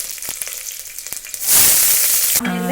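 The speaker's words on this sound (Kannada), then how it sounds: "ಈರುಳ್ಳಿ ಸ್ವಲ್ಪ ಕಲರ್ ಚೇಂಜ್ ಆಗೋಷ್ಟು ಫ್ರೈ ಮಾಡಿ" Onions hitting hot oil with mustard seeds and curry leaves: scattered crackles and pops first, then a sudden loud, steady sizzle as the onions go in, close and with no talking.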